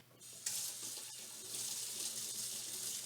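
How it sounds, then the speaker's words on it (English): Salt-packed capers being rinsed under a running kitchen tap, a steady close hiss of flowing water that begins abruptly and continues evenly to the end. "I'm going to rinse my capers because my capers are packed in salt."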